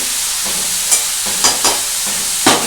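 Snake gourd (chichinga) and prawn curry is stirred in a pan: a steady hiss of sizzling with a few short scraping strokes of the spatula spaced through it, no voices.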